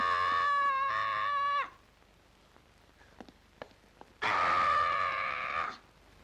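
A woman screams loudly in a 1972 Iranian feature film, two long sustained shrieks with a quiet pause between them.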